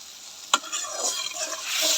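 Spice paste for a vegetarian curry fries in a pan, with a short, moderately close sizzle and one sharp scrape of the stirring spoon, and no talking.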